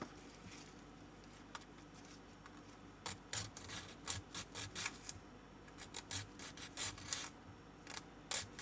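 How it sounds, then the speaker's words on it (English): A cured UV resin heart piece is sanded down flat by hand in short, quiet rasping strokes that come in irregular bursts, close up with no talking. "I can take that down with a bit of sanding"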